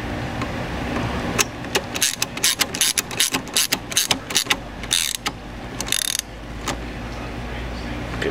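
Ratchet clicking in quick bursts while tightening bolts on a 6.0L Powerstroke diesel, repeated short loud ratcheting strokes with pauses, close up over a steady background hum.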